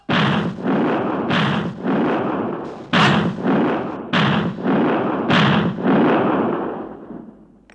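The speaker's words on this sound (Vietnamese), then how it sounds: "Chuẩn bị, bắn!" Artillery guns fire in a 1996 Vietnamese war drama set in wartime Hanoi: about six heavy, booming blasts in quick succession, loud and close, each leaving a rolling rumble that runs into the next. No voices are heard.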